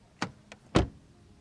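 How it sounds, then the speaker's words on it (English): A 2023 Mercedes C43 AMG door shuts with a solid, deep thud near the mic, preceded by a couple of lighter latch and handle clicks; no one speaks. "Door closing sound."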